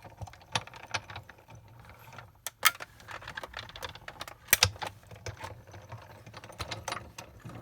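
A Big Shot die-cutting machine is cranked to feed stacked plates and dies through for cutting letters, giving a steady run of close, dry clicking and ratcheting with a few sharper snaps, heard on its own without talk.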